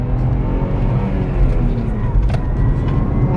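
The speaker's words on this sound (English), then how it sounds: "just zooming in my new IS300 down the country roads" A Lexus IS300 driving on country roads gives a steady, loud low engine drone with road rumble throughout, heard from inside the car as a voice talks intermittently.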